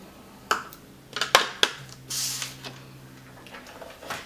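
Cardstock being scored for a small scalloped tag topper paper box: a few sharp creaking scrapes and clicks, then a softer drawn-out rub, all quiet and close with no voices.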